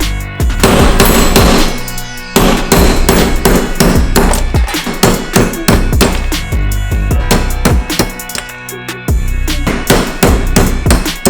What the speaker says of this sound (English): we're gonna get a punch, and we're gonna punch out